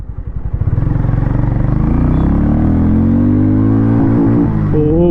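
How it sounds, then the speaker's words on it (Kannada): Harley-Davidson X440 motorcycle accelerating hard in first gear, a loud close engine note rising steadily in pitch from a thumping idle, with a brief drop near the end. "ಸೊ ಈಗ ಒಂದು ಸ್ವಲ್ಪ ಚಚ್ಚೋಣ, ಟಾರ್ಕ್ನ ನೋಡೋಣ ಈ ಒಂದು ಗಾಡಿಯಲ್ಲಿ."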